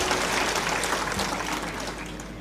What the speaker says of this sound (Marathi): आपण सर्वजण टाळ्या वाजून जयंतरावांचं सुद्धा मनापासून स्वागत करावं